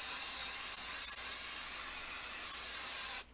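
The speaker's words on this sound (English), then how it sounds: "I personally like to spray it on the batting itself." Quilt basting adhesive sprays from an aerosol can onto batting in one steady, close hiss lasting about three seconds, then cuts off abruptly.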